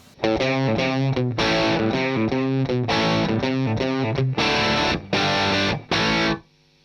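Heavily distorted electric guitar through a tube amp with the bass knob turned down, playing chords and riffs, loud and close, with short gaps between strummed phrases before ringing out at the end.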